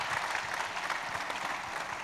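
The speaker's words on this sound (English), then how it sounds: "A round of applause." Audience clapping at a pre-conference workshop, a steady, dense round of applause from a crowd heard throughout at moderate volume.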